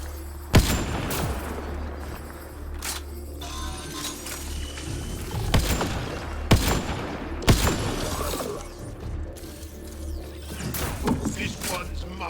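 Video-game gunfire cracks out as sharp, isolated shots spaced several seconds apart, loud and close, over a low steady background rumble, with a voice speaking briefly between shots.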